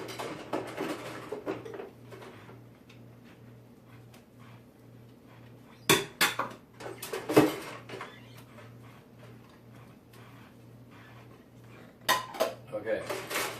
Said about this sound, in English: You don't just wash the tops, you wash the backs also